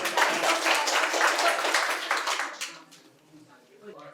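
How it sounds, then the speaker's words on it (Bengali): Loud audience applause and clapping fills a hall at a quiz event at Santiniketan Medical College and Hospital, sustained for over two seconds before fading into scattered claps and murmuring voices. "জোরে হাততালি হয়ে যাক অনিমেষের জন্য একটা।"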